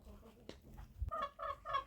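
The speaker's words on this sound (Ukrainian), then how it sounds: "Тут у нас півники фавероль." Faint clucks and short crowing calls from Faverolles roosters inside a poultry house, a few quiet bird sounds over a low background.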